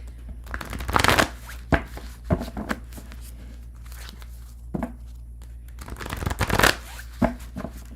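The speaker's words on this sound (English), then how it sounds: "I'm going to shuffle and move on to Capricorn." A deck of tarot cards is shuffled by hand nearby, with repeated riffling bursts and crisp papery flicks coming in irregular clusters over several seconds.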